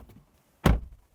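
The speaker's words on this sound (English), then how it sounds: "What about our door? Sounds really nice and solid." A 2022 BMW iX3 electric SUV door swings shut with one solid, deep thunk, close and loud after a brief quiet moment.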